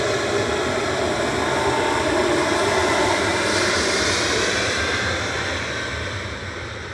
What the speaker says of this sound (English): Lufty flight 2505 to Munich. DAIJM departing.